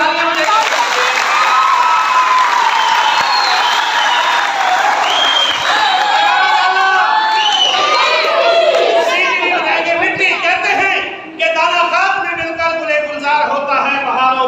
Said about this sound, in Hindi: आप जोर से तालियां बजाइए।